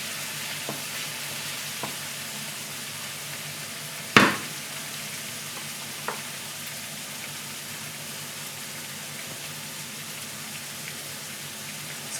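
Yakiudon ingredients fry in a pan with a steady, even sizzle throughout, broken by one brief clatter of a spoon or utensil midway and a few faint ticks.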